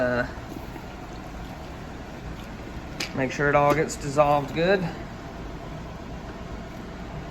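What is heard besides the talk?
bubbling from air escaping wood ash in lye mix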